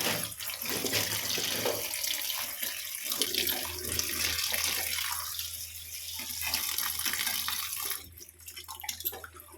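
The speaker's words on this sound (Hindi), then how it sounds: "सबसे पहले हम इसे धो लेते हैं।" Freshly picked bathua greens are rinsed under running water, a loud, continuous splashing rush that shifts in tone as the leaves are moved and drops off toward the end, with no talking.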